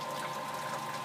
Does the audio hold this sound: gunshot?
no